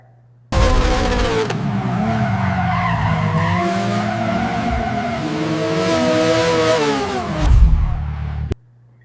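Intro jingle for a motorsport weekend recap show, built from loud racing car sounds: screaming revs and squealing tyres that swell and bend in pitch for about eight seconds, starting and cutting off abruptly.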